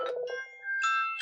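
A phone call ringing tone: a short electronic ring of bright, steady pitched tones that rises and repeats over about a second, fairly clear and alone.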